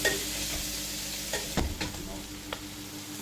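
Pork and kale stems stir-fry in a hot pan, a close continuous sizzle broken by a few scraping stirs and light clatters, no talking heard.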